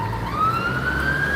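A Scania fire truck's siren sweeps slowly upward in pitch, loud and close, over a low traffic rumble at a Gloucester street.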